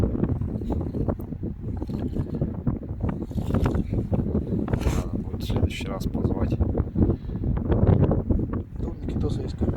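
Gusts of wind, around 8 m/s, buffet a phone microphone partly covered by a mitten while fishing at Glukhoe near Novosibirsk, a constant rough low rumble under people talking throughout.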